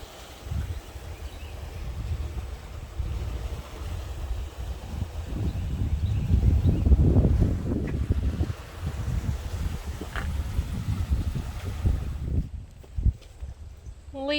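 Outdoors beside the Suwannee River, a low, rumbling wash of wind buffeting the microphone over flowing water, swelling and easing in gusts, with a sudden drop near the end.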